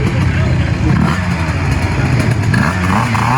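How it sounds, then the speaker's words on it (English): A two-stroke scooter engine runs hard on a dyno at a minibike gathering, a loud, steady, buzzing drone close by with slight rises in pitch and no pauses throughout. "2-stroke scooter going."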